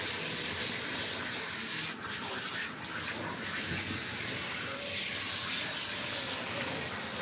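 Running water rinsing a Persian cat during a bath, a steady close gushing stream from a tap that continues unbroken, with faint handling sounds and no clear talk.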